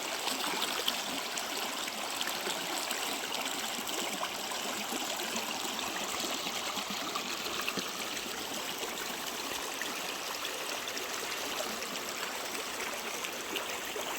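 A creek at a wooded bluff flows with a steady, close trickling rush that stays even and unbroken throughout, with no voices over it.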